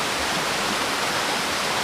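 A forest waterfall pours steadily in a natural jungle setting, a dense, even roar of falling water close by with no break and no voices.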